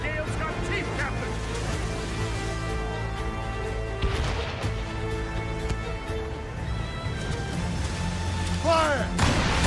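Ship cannons booming during a stormy naval battle in Assassin's Creed Rogue, several heavy blasts spaced out over wind, creaking timbers and crew shouting, with an abrupt crash near the end.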